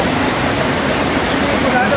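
Water rushes steadily through a dense forest near Hastala Veerabhadra Swamy, a loud, unbroken hiss of flow with no pauses across the moment.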